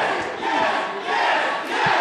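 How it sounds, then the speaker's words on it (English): A wrestling crowd at Villa Park cheers and roars in a sustained, swelling wave of voices filling the venue. "The crowd at Villa Park showing their approval"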